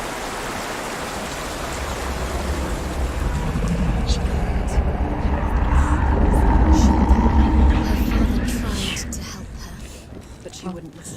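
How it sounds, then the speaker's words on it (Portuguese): Rain from the video game Hellblade: Senua's Sacrifice makes a steady, broad hiss that swells and fades, with faint whispering voices mixed in. "Olha esse barulho de chuva."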